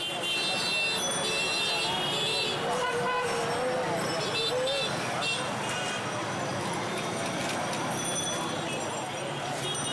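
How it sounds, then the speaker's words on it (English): Dense street traffic in Dhaka, Bangladesh, fills the air with constant honking horns and engine noise, a busy roadside wash heard up close with voices mixed in. "Even if traffic is at a complete standstill, horns are always honking"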